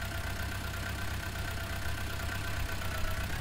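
A New Holland tractor idles in Farming Simulator 19 with a steady, droning engine hum and a faint rhythmic knock, holding constant with no voices.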